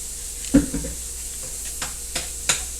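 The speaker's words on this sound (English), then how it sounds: "Add your shrimp right on in there." Shrimp drop into a pan of cooked-down spinach, giving a soft steady sizzle broken by a few sharp clatters and taps of utensils against the pan.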